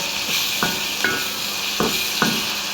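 Small dried shrimp frying with tomato in a pan, a steady broadband sizzle broken by four or five brief scraping stirs, close and fairly loud with no talking.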